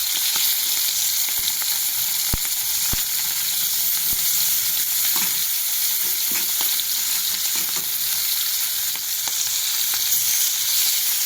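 Small pata fish frying in a pan of hot oil, giving a steady, dense sizzle with occasional crackles and pops, close and continuous without any talk.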